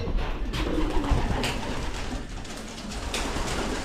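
Pigeons coo in a loft, their soft low calls repeating close by over a continuous murmur of other birds, with a few light knocks and rustles.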